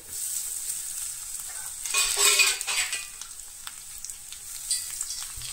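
Grated coconut stirred and gently warmed in a pan for a clam sukka, soft scraping and light sizzling that swells briefly in the middle, close and fairly quiet, with no voices.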